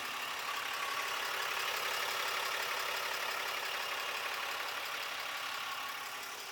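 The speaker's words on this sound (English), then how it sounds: "What you're actually hearing is the pump for this right now" A RAM 3500 pickup's fuel pump running with the tank under half full, a steady broadband whir and hiss holding constant throughout, fairly close and unbroken, fading slightly at the very end.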